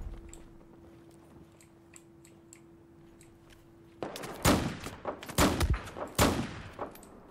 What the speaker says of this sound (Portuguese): Recarrega ele. Revólver é foda de carregar, né?